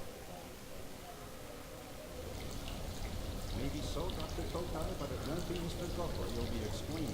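Water pouring in the Afterfall: Insanity game, a steady hissing splash that thickens and grows louder partway through and keeps running evenly to the end.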